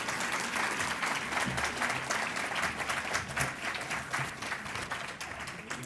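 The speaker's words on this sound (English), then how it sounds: "Let's give a round of applause to the credit union at schools." Sustained audience applause at an innovators awards ceremony, dense steady clapping from a sizable crowd filling the whole stretch at an even level, with no voices rising above it.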